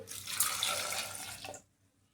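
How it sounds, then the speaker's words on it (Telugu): Water pours into a pressure cooker steadily with a broad splashing hiss for about a second and a half, then stops abruptly, leaving near silence. "వాటర్ అయితే నేను కప్పుడు వాటర్ వేసుకుంటున్నాను"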